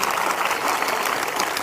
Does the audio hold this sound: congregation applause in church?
yes